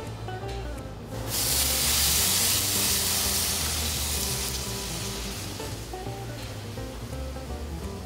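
Grilled cheese sandwiches with bacon hit a hot pan on a stove. After a quiet second, a loud, close frying hiss bursts up and then settles into a steady sizzle over a faint tonal background.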